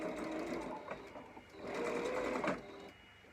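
A sewing machine runs a double stitch in two quiet bursts of steady rapid whirring, separated by a brief pause, with faint mechanical ticking throughout.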